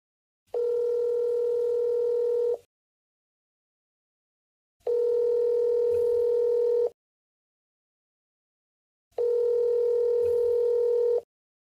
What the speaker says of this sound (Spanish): El teléfono sonó varias veces.